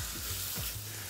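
Chicory (witlof) frying in a pan over medium-high heat in a restaurant kitchen, a steady broadband sizzle with soft stirring sounds, continuous and close throughout.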